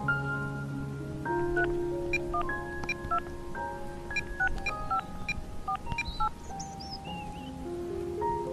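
Touch-tone telephone keys beep one after another in a steady sequence of clear dialing tones, close and moderately loud, with a faint rustling background and no talking.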